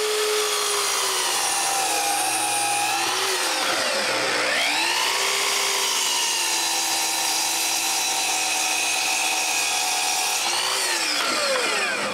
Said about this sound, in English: I begin by cutting it to the right size.